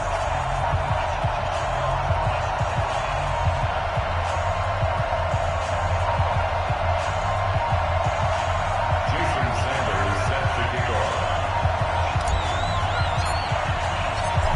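A dense stadium crowd roars steadily in an EA Sports NFL game as the Philadelphia Eagles and Dallas Cowboys get set to match up, a continuous wash of cheering with a commentator talking over it.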